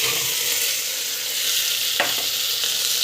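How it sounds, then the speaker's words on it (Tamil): Cut beetroot hits a hot pan and is stirred, giving a loud, steady sizzle with a couple of brief scraping strokes from the spoon. "கட் பண்ணி வச்ச பீட்ரூட் வந்து இதில் ஆட் பண்ணலாம்"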